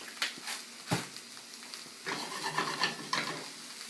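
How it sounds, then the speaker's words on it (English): Onions and ground meat fry in a green pan for lasagne, a soft sizzle broken by scraping stirs and occasional clinks of a utensil against the pan, close by and fairly quiet. "we got our onions going, and the meat's starting to get done pretty well"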